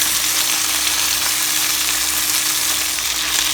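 A plate of vegetables goes into a cast iron skillet with steak, setting off a loud, steady, close sizzle and crackle of frying that runs unbroken throughout.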